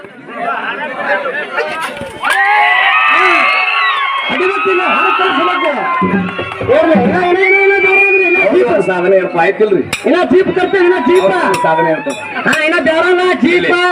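A crowd at a Kannada dollu folk drum performance shouts, whoops and cheers loudly and continuously, a dense roar of many voices close around the listener, with chatter mixed in throughout.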